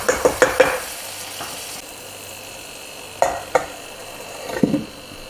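Chicken curry in a pan, stirred over a very low flame, with a few sharp spoon clinks against the pot, a quiet bubbling sizzle in between, and a later burst of stirring scrapes, close up, with no talking.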